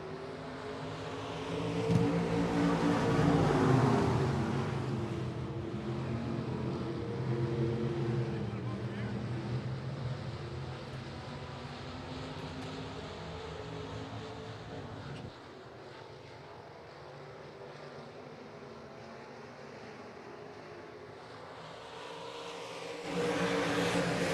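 IMCA stock cars roar through a heat race on the dirt oval at Clay County Speedway, a dense pack of engines swelling loud early and then holding a steady, slightly distant drone, with an announcer talking over it.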